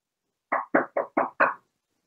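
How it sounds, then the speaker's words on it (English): Five firm knocks on a door in a quick, even run, close and loud against silence, with no talk. "I keep hearing knocking at my door"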